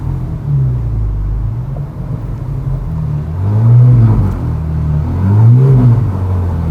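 A 15-year-old used supercar rolls downhill in first gear under on-and-off engine braking. Its low engine drone rumbles steadily, then swells twice in brief rev rises, heard from close by without speech.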